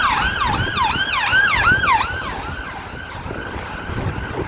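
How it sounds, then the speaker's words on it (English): An ambulance siren wails in a clear, repeating rise-and-fall pattern over steady road rumble, loud at first and then fading as the vehicle moves away. "Yeah, noisy ambulance."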